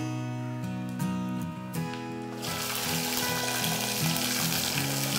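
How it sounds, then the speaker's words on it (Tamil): Cumin seeds, fenugreek and garlic hit hot oil, setting off a sudden bright, crackling sizzle about halfway through that then holds steady and loud, with tonal music playing underneath throughout. "சீரகம் போடுறோம் வெந்தயம் பூண்டு"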